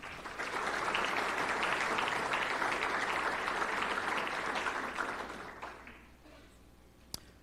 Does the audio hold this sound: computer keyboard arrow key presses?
no